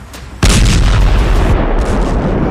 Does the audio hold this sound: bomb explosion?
yes